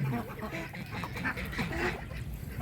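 Ducks and geese calling at a farm pond, a busy dense chorus of quacks and honks close by with no talk.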